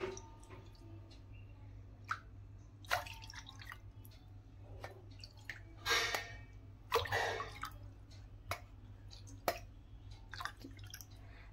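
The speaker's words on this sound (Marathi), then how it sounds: "या शिऱ्यासाठी रव्याच्या 4 पट पाणी मी इथे टाकणार आहे" Water is poured into a cooking pot for jaggery shira, giving faint, intermittent splashes and drips with a brief louder gush midway, alone in a quiet kitchen.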